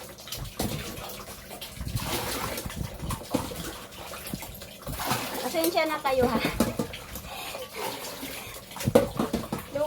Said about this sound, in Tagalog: Kailangan kong mag-transfer at magpuno ng tubig.